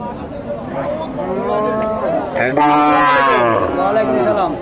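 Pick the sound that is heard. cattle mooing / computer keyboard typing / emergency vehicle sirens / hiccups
cattle mooing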